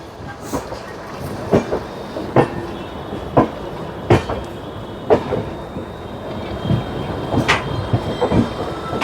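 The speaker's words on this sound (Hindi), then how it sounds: "तो सामने से दोस्तों एक और ट्रेन आ रही है" An oncoming train rushes past a moving Indian express passenger train near Kanpur Central, its wheels clattering in a loud series of sharp rhythmic knocks over steady rumbling rail noise.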